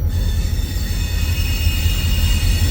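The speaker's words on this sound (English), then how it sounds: "Occasionally you will actually get a train passing through here." Train passing on an active Southwestern Pennsylvania Railroad line beside a rail trail, a loud, steady rumble of rolling wheels and railcars with high metallic squeal, close by and continuous, with no voices.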